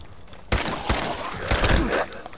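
Gunfire in Fallout 4 aimed at a feral ghoul near Gorski's cabin: several loud, sharp shots in irregular bursts, each with a short echoing tail, with no voices over them.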